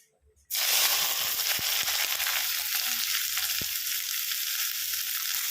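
Finely chopped onions go into hot oil with whole spices for a Bihari-style chicken curry, and a sudden loud sizzle bursts up, then settles into a steady, dense frying hiss with a few faint clinks from the pan.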